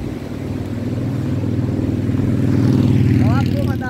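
Engine noise from passing motorcycles fills the scene at Boa Viagem beach in Recife, a steady low rumble that swells toward the end, with street ambience around it.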